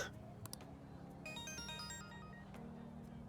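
A phone ringtone chimes in the Persona 5 Royal video game, a short melodic burst of bright tones lasting under a second over a steady low musical background, with no talk.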